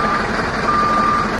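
Truck with trailer reversing, emitting a loud, close electronic backup beep in steady tones over low engine rumble, with no talking.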